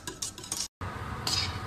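Custard filling for doughnuts being stirred in a pot, a steady scraping and clinking of a utensil against metal with one brief break.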